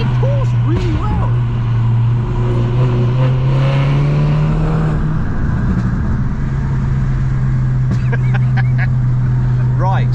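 A stage 2 tuned BMW 330e making 380 bhp accelerates hard, its engine note droning and climbing steadily under road and wind rush, with voices faintly audible inside the car.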